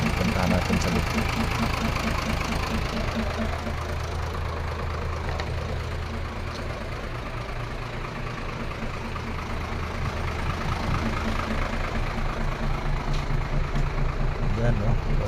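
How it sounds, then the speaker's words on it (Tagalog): A vehicle engine idles steadily with a low, rough, knocking rumble throughout, close by, with some faint background voices. "Napakaganda ng andar ng makina"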